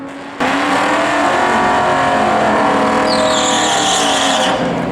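A race car roars at full throttle on the Las Vegas track while racing a 6-liter GTO, a loud sustained engine note with tire squeal rising near the end.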